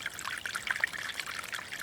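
Cold river flowing through a forest, a steady rushing and trickling of water with small splashy bursts, close and continuous with no voices.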